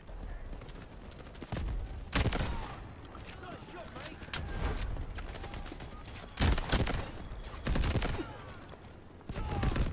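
Shotgun blasts crack out in the video game Delta Force, several loud sharp booms spaced a second or two apart, mixed with clattering gear and action noise, while a voice talks between shots.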